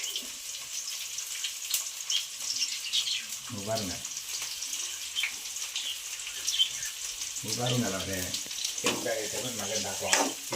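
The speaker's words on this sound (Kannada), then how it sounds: "ಕೆಂಪಗಾಗದಂಕ ಫ್ರೈ ಮಾಡ್ಕೋಬೇಕು ಫ್ರೆಂಡ್ಸ್ ಈರುಳ್ಳಿನ" Onions frying in a pan, a soft, steady sizzle with occasional stirring, heard up close while a voice speaks intermittently over it.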